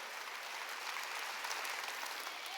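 Steady, even applause from a church congregation at a Wednesday worship service, a continuous wash of many hands clapping at moderate distance with no pauses throughout.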